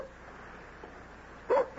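Dog in a radio drama giving two short, sharp barks at the very end after near silence, close and clear.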